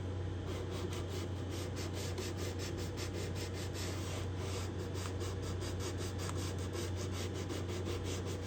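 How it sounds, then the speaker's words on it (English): Wood is hand-sanded with 150 grit sandpaper on a rubber backing at the heel cap of a guitar purfling channel. The scratchy rubbing strokes repeat steadily and close by, without pause and with no talking. "A little bit more sanding here. Try the rubber backing. 150 grit sandpaper."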